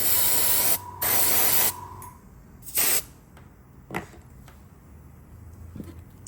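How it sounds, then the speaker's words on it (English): Several short bursts of sprayed water hissing loudly, each lasting about a second, separated by quieter pauses with faint clicks. "spray the excess portion out."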